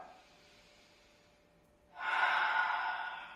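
Slow yoga breathing during a vinyasa class, a soft quiet inhale through the nose followed by a louder, forceful exhale rushing out close to the microphone.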